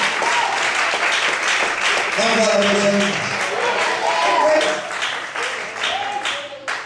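A church congregation applauds steadily throughout a sermon, with a pastor's voice calling out briefly over the clapping.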